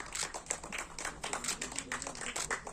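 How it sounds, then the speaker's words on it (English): Scattered applause from an audience at a film festival event, quiet and a bit thin, with irregular claps running steadily through the moment without talk. "Let's have a huge round of applause,"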